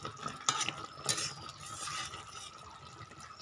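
A curry of potol (pointed gourd) in yogurt gravy being stirred in a pan, with soft scraping strokes and light wet sizzling, a couple of sharper clinks near the start and middle, close and moderately quiet, no talk.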